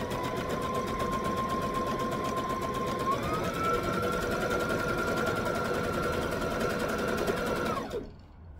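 A sewing machine stitching the fabric of a wrap skirt runs steadily for about eight seconds, a fast even mechanical whir with a faint tonal whine, then stops abruptly, close and alone.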